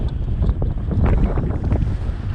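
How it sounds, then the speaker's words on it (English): Strong, steady wind buffets the microphone on the summit of Mount Elbert, Colorado, a continuous low roar with gusty rumbling throughout. "It's a little windy"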